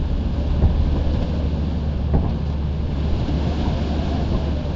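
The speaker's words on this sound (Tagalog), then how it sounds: "Ang lakas ng hangin." Strong wind roaring steadily in Lethal Company, a dense low rush with faint gusts, continuous and fairly loud with no voices.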